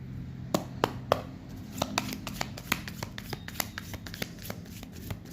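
Tarot cards being shuffled by hand at close range, a dense run of crisp riffling clicks and soft card slaps with a few sharper taps, with no talking.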